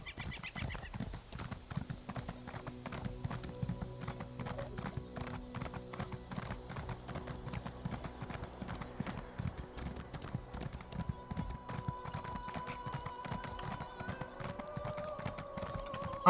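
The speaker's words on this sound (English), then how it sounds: "As you run over everybody with your horse." Horse hooves clop in a steady, rapid rhythm as a rider gallops through a fantasy video game with elves, moderately loud and continuous, with a faint tonal game sound emerging near the end.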